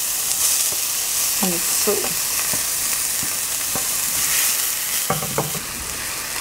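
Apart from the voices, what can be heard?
garlic and onion frying in a pan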